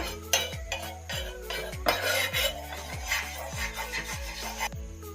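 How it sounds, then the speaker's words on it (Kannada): A metal spoon spreads ghee across a hot pan for masala bread toast, making a steady run of rhythmic scraping strokes with light clinks, close and moderately loud. "ಈಗ ಇದಕ್ಕೆ 1 ಸ್ಪೂನು ತುಪ್ಪ ಹಾಕೋಣ. ಇದು ಸ್ಪೂನಿಂದ ಸ್ಪ್ರೆಡ್ ಮಾಡೋಣ ಅಂಚಿಗೆಲ್ಲ."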